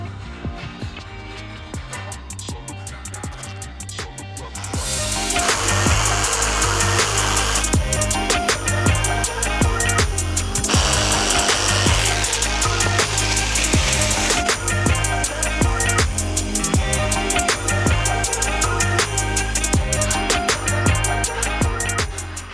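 A power tool cuts through the plastic fender liner of a 2023 Chevrolet Colorado ZR2, starting quieter and then rising to a loud, steady, buzzing cut that runs without pause, close by.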